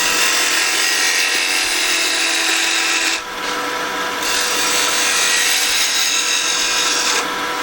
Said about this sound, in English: I just prefer the skew and a peeling cut because I find it so fast.